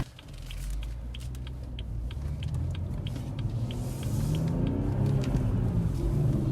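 A BMW 340M car accelerates on the road, its engine rumble building steadily and growing louder from inside the cabin, with faint regular ticking throughout.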